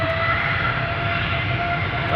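TUI passenger jet, registration PH-TFM, nine years old, at Amsterdam Schiphol Airport, giving a steady, broad engine roar with a faint sustained whine, constant in level throughout with no voices.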